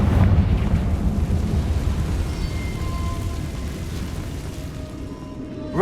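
Confringo fire blast spell in the Hogwarts Legacy video game, a loud rumbling, roaring blast that opens strongly and then rolls on as a sustained low roar, fading slightly toward the end with a final burst.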